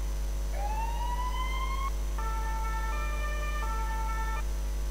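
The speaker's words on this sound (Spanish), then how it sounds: "va a llegar la ambulancia de soporte vital avanzado" An advanced life support ambulance siren in the Emergency 4 video game with the Barcelona mod sounds as it arrives, a rising wail followed by a steady two-tone pattern, loud over a constant low game hum, no talking.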